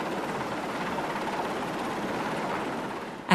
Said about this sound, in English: A helicopter shuttles between the two vessels to supply the replenishment